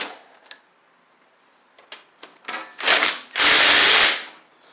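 A ratcheting wrench tightens the starter bracket on a Craftsman LT1000 riding mower: a few scattered clicks, then quicker ratchet bursts building into two long, loud rasping runs up close.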